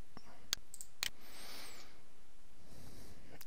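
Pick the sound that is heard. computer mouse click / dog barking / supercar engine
computer mouse click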